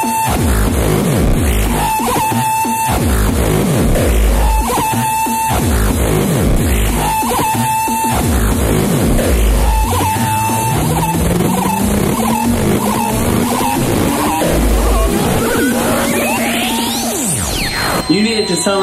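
Distorted hardcore synthesizer and drum machine playing loud and continuous, with harsh dense layers over pounding repeated kicks and a rising pitch sweep near the end.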